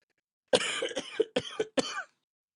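A person coughs four times in quick, hoarse, voiced bursts, each close and fairly loud, from a throat strained by heavy voice use.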